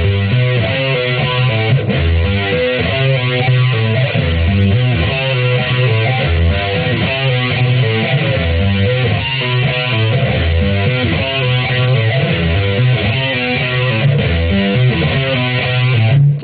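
A distorted electric guitar plays a riff, with hammer-ons and pull-offs ringing into open strings. The dense, loud lick runs continuously, alone with no talking.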